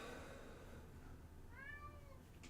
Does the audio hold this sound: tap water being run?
no